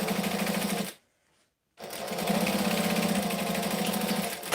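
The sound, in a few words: sewing machine top stitching vinyl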